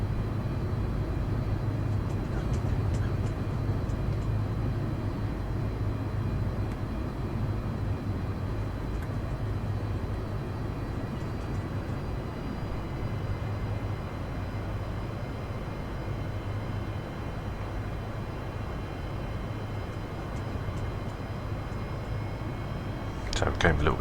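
Boeing 747-200 with RB211 engines lining up on the runway in X-Plane 11, a steady low engine drone with a faint high whine, constant and unbroken throughout, with a voice talking over it.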